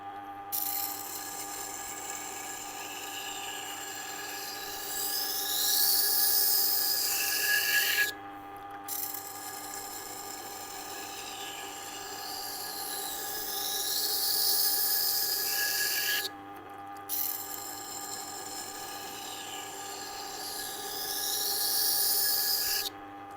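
A Global knife drawn across a resin bonded diamond wheel gives a high, rasping grind in repeated passes, swelling and fading with each stroke, broken by short silences between sets.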